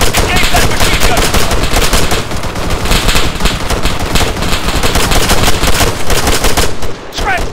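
Dense, loud automatic gunfire from the Arma 3 video game rattles continuously as rapid overlapping bursts, with a brief dip near the end.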